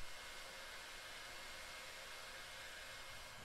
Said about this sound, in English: We're going to move our heat shrink up and over those connections and shrink them down with a heat gun.